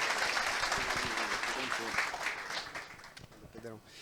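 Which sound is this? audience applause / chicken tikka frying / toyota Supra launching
audience applause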